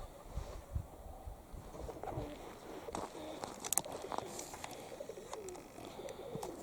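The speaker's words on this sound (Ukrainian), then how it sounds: "вот подошли голуби с переляку домой" Pigeons cooing nearby during strong northern winds, soft repeated coos mixed with wind buffeting and scattered rustles, fairly faint.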